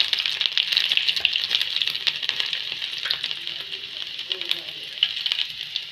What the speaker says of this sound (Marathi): तर मोहरी घालूया जिरं लसण घालूया